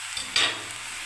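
Ginger paste and chopped green chili hitting a hot pan, a sudden loud sizzling burst that settles into a steady hiss over about a second, preceded by a couple of small clicks, no speech.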